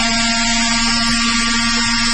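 Bosch random orbital sander running alone at steady speed, a close, continuous high whine with a strong constant hum and no talk.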